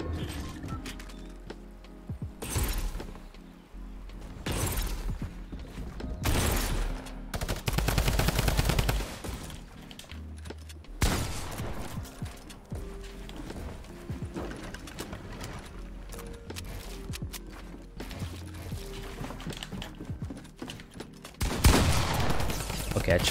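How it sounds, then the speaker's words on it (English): Gunfire in a video game squad match, with bursts of rapid automatic shots and louder single cracks spread through the scene, some near and some distant, with soft bird coos and brief talk in between. "He's just shooting me from over here."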